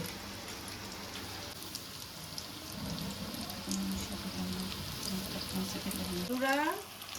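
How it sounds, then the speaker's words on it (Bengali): Bombay duck (lote fish) jhuri fries in a pan with a steady close crackling sizzle and stirring scrapes throughout, ending with a brief rising squeak of utensil against pan. "এবার লোটে মাছের ঝুরি ভাজা হয়ে এসছে।"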